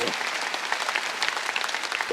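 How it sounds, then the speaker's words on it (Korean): A church congregation at a Sunday worship service claps together in a dense, continuous round of applause that stays moderately loud and steady throughout, with no clear speech over it. "믿으면 박수야"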